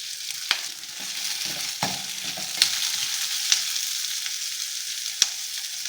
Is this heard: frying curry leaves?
yes